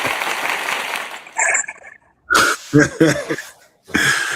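An applause sound effect played by a show host rings out for about a second, followed by short bursts of noisy, breathy sound separated by brief silences.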